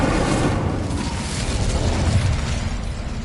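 A fire spell cast in the Hogwarts Legacy video game, giving a steady, loud, roaring whoosh like a burst of flame that rumbles on for several seconds without fading.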